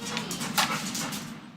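A pet dog whimpering and shuffling around indoors, soft whines and movement noises close by, fairly quiet throughout.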